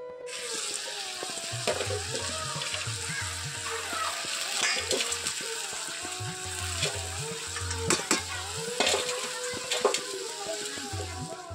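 Mixed vegetables cook together in a pan, a moderate sizzle and bubbling with occasional stirring clinks, running under a continuous voice talking over it.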